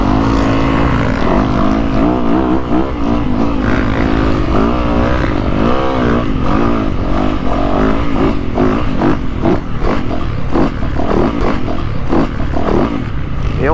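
An enduro motorcycle engine revs and strains continuously while riding a rough, rutted circuit, loud and close with rising and falling pitch as the rider works the throttle over the bumps.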